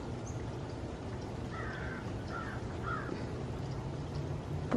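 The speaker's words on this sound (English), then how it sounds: "Wow, what a big bird." Large bird near a koi pond giving a few harsh caws, moderately close over a steady background wash of water, with no talking.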